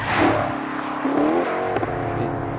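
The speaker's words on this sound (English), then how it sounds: "The engine is not quiet." A loud, close 2013 Maserati GranTurismo Sport engine revs up with a rising growl, then settles into a strong, throaty drone.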